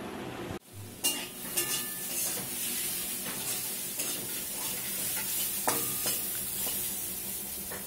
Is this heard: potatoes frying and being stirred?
yes